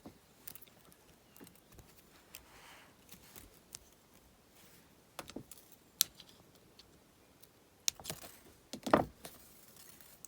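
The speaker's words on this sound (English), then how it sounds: "So we can cut this weaving wire off now." Weaving wire for a wire-wrapped pendant gets cut, small sharp metallic snips and clicks scattered over quiet handling noise, a few distinct close clips standing out, no voices.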